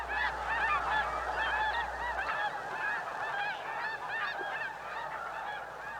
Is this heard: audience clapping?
no